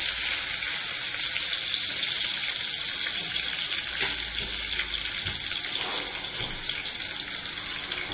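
Ginger and garlic sauté in a pan for a Kerala-style chicken stew, a steady close hiss of oil holding at an even level with faint occasional stirring.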